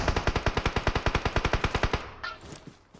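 A rapid burst of automatic gunfire in the mobile game PUBG Mobile, about twenty evenly spaced loud shots for two seconds, then a few scattered softer sounds as it fades.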